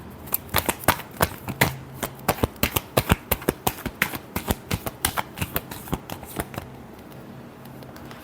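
A deck of tarot cards is shuffled close by in quick bursts of crisp riffling snaps, some clustered and some spaced, with no talk over them.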